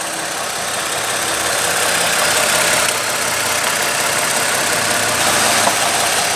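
A 2013 Lexus RX350 F Sport's 3.5 liter aluminum V6 runs loudly and steadily at idle, a constant mechanical hum with a faint whine and no talking.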